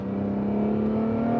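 A twin-turbo Acura NSX Type S engine holds a smooth, steady drone with a strong even hum, close and continuous, with no distinct blow-off burst standing out.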